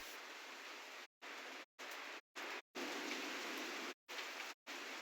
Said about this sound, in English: We just want rain. What's mountain rain?